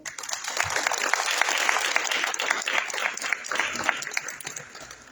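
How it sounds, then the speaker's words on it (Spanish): An audience at a history lecture bursts into applause, a dense wash of clapping from many hands that swells and then gradually thins out over about five seconds. "Un aplauso, por favor."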